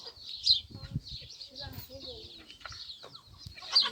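Hens clucking softly nearby with a few sharp high calls, alongside faint rustling and quiet background sounds.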